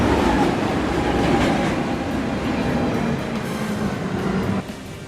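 R62 subway train on the 1 line running in the NYCSA video game, a steady close rumble of wheels and car noise with faint clicking, easing slightly near the end, no talk.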